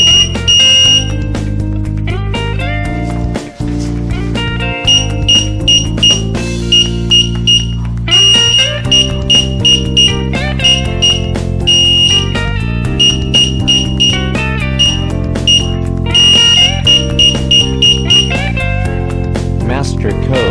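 DG 185 digital keypad emitting a rapid series of sharp, loud electronic beeps in irregular bursts, some clusters of quick tones and longer held notes, with no other sound around them.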